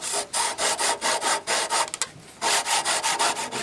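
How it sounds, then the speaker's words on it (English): A hand saw cuts through wood for a chest of drawers, with steady, rhythmic back-and-forth strokes, close and clear, briefly pausing midway before the sawing resumes. "Once I'm there, then I turn my saw and I finish my cut."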